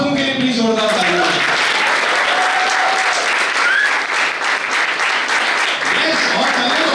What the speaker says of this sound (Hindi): तो एक बार आप लोगों के लिए प्लीज जोरदार तालियां